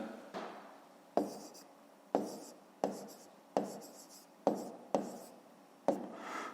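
Pen writing numbers on paper during a Grade 5 maths exercise, a close series of eight sharp strokes at uneven intervals, each a crisp scratch that fades quickly, with no talk.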